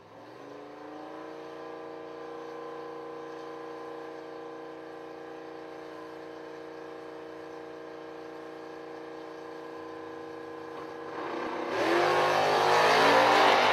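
Drag racing car at the track, a steady harmonic engine drone holding pitch, then a sudden loud roaring burst of noise as it launches and pulls away, no talking.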